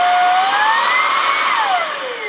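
An Ultenic U20 cordless stick vacuum cleaner runs loud and close, its motor whine climbing in pitch, holding steady, then sliding down as the power drops.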